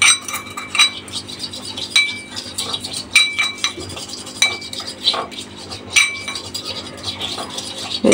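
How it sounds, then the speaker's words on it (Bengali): A spoon stirs a mixture of shampoo, lemon and toothpaste in a bowl, giving repeated bright clinks and scrapes against the bowl in an uneven rhythm, close and fairly loud. "শ্যাম্পু লেবু আর পেস্টটা একসাথে ভালো করে মিক্সড করে নেবেন"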